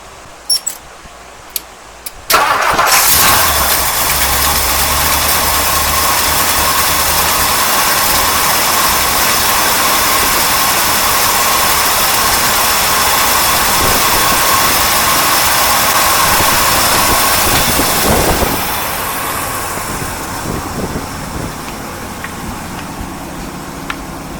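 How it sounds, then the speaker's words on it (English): A 1964 Mercury Park Lane Breezeway engine cranks briefly, then catches and roars into a loud, steady run that settles to a slightly quieter idle near the end, with no talk over it. "Well, it runs, but it definitely smokes."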